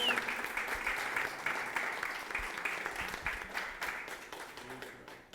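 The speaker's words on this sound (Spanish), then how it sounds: "así que un aplauso a los chicos" A church congregation applauds the young children as they head off to their class, a steady, moderately quiet patter of many hands that gradually thins out over several seconds.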